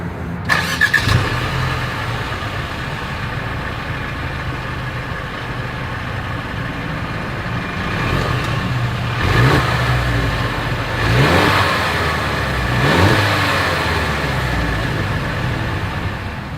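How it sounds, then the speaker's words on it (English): A Mercedes GLC engine starts and settles into a steady exhaust idle, then revs up in three rising surges toward the end, each swelling and falling back, heard close and alone. "As always, here is that exhaust clip."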